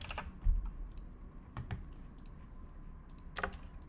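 Computer keyboard typing heard as scattered clicks, with a few short clusters of keystrokes over a low background hum and no talking.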